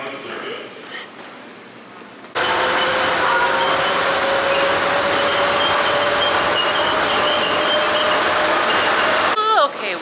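An airport tram at Denver rolls along its rails with a loud, steady rumble and rising whine after a quieter start, ending with a squeal as it slows, while people talk aboard.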